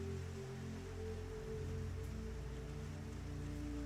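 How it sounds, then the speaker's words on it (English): Steady rain falls outside a window on a rainy New Orleans night, a soft continuous patter under a low constant hum, faint and even throughout. "The rain continues to fall"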